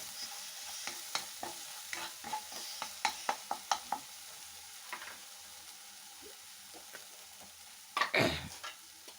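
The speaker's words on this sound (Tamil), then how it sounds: "இப்போ இதெல்லாம் சேர்த்து நல்லா வதக்கி விட்டுக்கலாம்" A spiced potato mixture for aloo paratha sautés in a pan, with quiet sizzling under repeated sharp scrapes and taps of a spoon stirring, followed by a louder burst of sizzle near the end.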